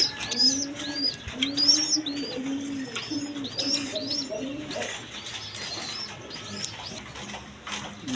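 Raj Golla pigeons cooing close by in repeated soft, throaty rolling coos, several birds overlapping, with a few higher chirps and faint background noise.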